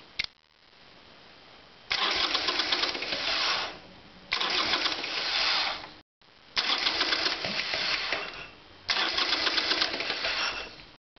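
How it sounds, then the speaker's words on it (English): Spark test on the front cylinder of a Harley-Davidson Sportster motorcycle with new spark plugs: four long bursts of the engine cranking over, each a rapid buzzing rattle lasting about two seconds, separated by brief pauses. "we're going for a spark plug test on the front cylinder"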